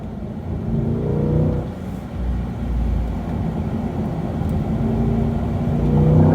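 A C8 Corvette accelerates along a race track, a loud, steady engine drone and rumble that builds gradually from start to finish, heard from inside the car with no talk.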